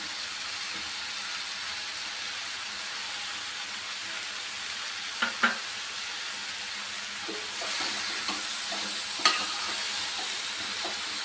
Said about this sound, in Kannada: ಈಗಾಗಲೇ ನಾನು ಹುರಿದಿಟ್ಕೊಂಡಿರೋಂಥ ಕಾಯಿ ತುರಿನ ಸೇರಿಸ್ತಾ ಇದ್ದೀನಿ.